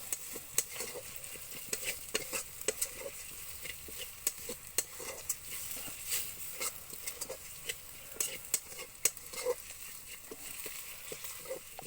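Spices and dried chili powder are stir-fried together for a Bengali pumpkin curry, with quiet, repeated scraping and stirring strokes over a soft, low sizzle.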